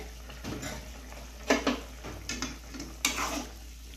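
A spoon stirs and scrapes through chicken frying in a pan, several distinct scraping strokes over a soft sizzle.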